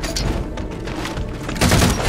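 Grenade blast in the Halo 4 shooter amid a dense firefight, loud rumbling booms and gunfire layered together, with a heavier burst near the end.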